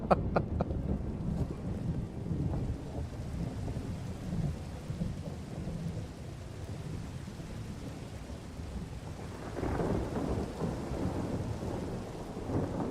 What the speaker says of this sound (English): forgot how loud the thunder is with this mod.